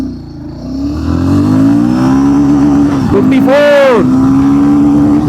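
Royal Enfield sports motorcycle accelerating hard, the engine note climbing steadily, a brief break around a gear change, then rising again, loud and close, with a voice speaking over it.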